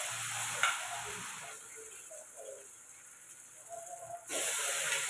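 Masala fries in a pan as boiled, salted mutton goes in, a steady close hiss that quiets and softens in the middle before a loud burst of sizzling returns near the end, with no talk.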